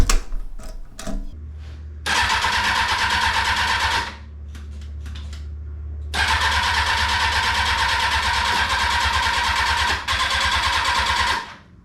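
An abandoned Kawasaki ZX-6R motorcycle, sitting for 17 years with cleaned carburetors, cranks over on its starter in two long steady whirring bursts of several seconds each without catching, close and loud, with a few clicks between.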